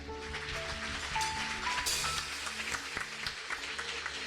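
A church congregation applauds loudly during a Portuguese-language sermon, a continuous full-room wash of clapping mixed with sustained musical tones and background worship sound.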